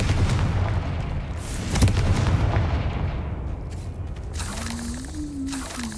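Repeated spell blasts from a wizarding video game, booming explosions and crackling bursts over a dense, continuous roar, with a rising whistle-like tone near the end.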